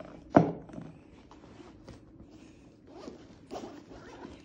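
A zipper opens a pocket on a soft ski wax box bag. One quick, sharp zip rasps out near the start, followed by quiet rustling and handling of the bag's contents.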